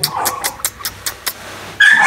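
Dogs give a quick run of sharp yips and barks at night in a village, about seven short bursts in an uneven rhythm, close by, followed by a brief high whine at the end.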